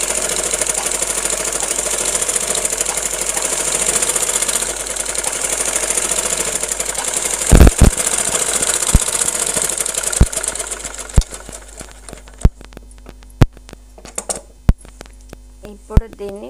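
A sewing machine stitching a long frock whirs steadily and loudly for about half the time, then stops, leaving isolated mechanical clunks and taps at intervals.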